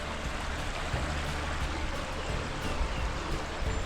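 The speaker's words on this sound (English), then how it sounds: "That water is moving too." Fast, high water in a stream rushing continuously, a steady broadband wash of churning flow heard close and fairly faint, with no talk over it.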